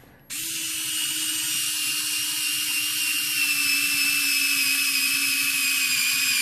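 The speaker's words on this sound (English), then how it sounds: "Sorry about the ringing noise, that's the drill." A steady, high-pitched whining drill bores through a phone, running continuously with a sharp metallic ringing tone, starting abruptly and holding loud and even throughout.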